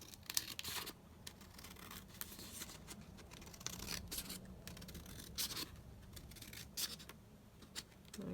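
Scissors snip off a fuzzy, furry edge while making triple envelope pockets, giving a run of soft, close, crisp cuts and rustles over a quiet room.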